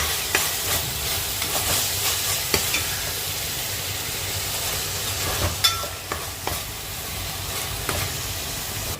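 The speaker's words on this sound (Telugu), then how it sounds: "బాగా వేగిన తర్వాత ఈ టమాటా పేస్ట్ని వేసిస్తాం" Tomato paste in a hot pan for a spicy village-style river prawn and egg curry, giving a steady loud sizzle with a few sharp spatula scrapes and stirring clicks.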